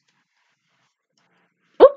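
A single short, sharp sneeze bursts out near the end after near silence, close and moderately loud.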